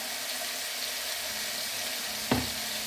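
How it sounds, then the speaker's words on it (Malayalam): Chicken seasoned with salt and spices sizzles steadily in a frying pan for Kerala-style roasted ground chicken curry, a soft continuous hiss with one brief louder splash or clatter near the end, no talking. "ഇതിലൊന്ന് കിടന്ന് വഴണ്ട് വരട്ടെ."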